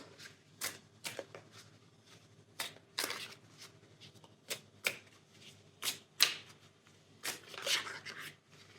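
Tarot cards are shuffled and drawn at close range, giving sharp riffling snaps and soft slides in irregular bursts with quiet gaps between them.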